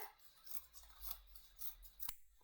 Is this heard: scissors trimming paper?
yes